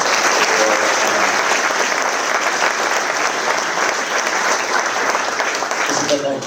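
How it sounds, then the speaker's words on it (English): Large concert audience applauding steadily at a charity band concert, a dense, loud wash of clapping that holds for the whole stretch and eases only slightly at the very end. "Give Ali a round of applause"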